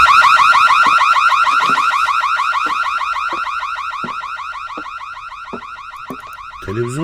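An alarm in the video game Please Forgive Me sounds as a loud, rapidly repeating electronic warble that holds steady and fades slightly over several seconds, with no voices.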